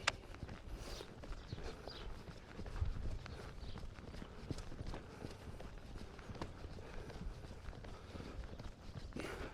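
A horse trots with a rhythmic clip-clop of hooves on the ground, steady and moderately close. The hoofbeats carry over a rough, noisy outdoor background.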